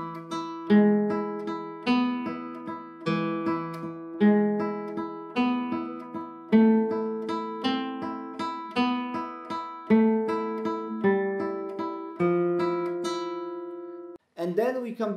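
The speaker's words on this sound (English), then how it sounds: "We play thumb and middle finger and index finger on the first string, which sounds like this." Flamenco guitar playing a Malagueña variation, with thumb, middle and index fingers plucking the first string in a steady repeating pattern of clear, close notes, ending with a brief voice.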